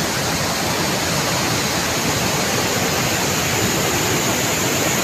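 The flooded Cipamingkis river, on the border between Sukamakmur and Jonggol districts, rushes with a loud, steady, broadband roar of churning water that stays constant throughout, with no voices.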